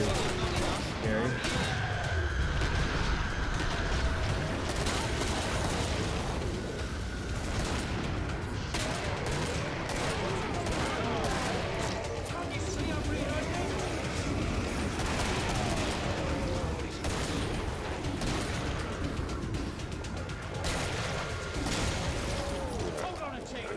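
Repeated shotgun blasts and gunfire clatter through a Killing Floor match, sharp bursts scattered over a steady din of game noise with speech mixed in.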